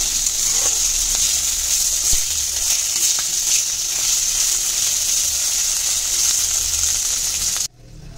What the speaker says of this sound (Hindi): So adding the potatoes to the hot oil.